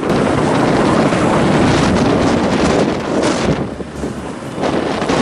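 Strong wind buffets the microphone outdoors near the city of Vinh, a loud continuous roar that dips briefly then returns.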